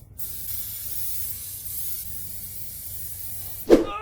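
Wax oil sprayed onto a TVR Chimaera car chassis makes a continuous close aerosol hiss lasting several seconds, followed by a brief louder burst near the end.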